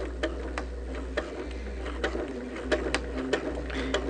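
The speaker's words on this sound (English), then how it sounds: "And now we're going to sew." A sewing machine stitches slowly along mitered quilt fabric borders, its needle giving a steady, light ticking rhythm over a low motor hum, close and alone with no talking.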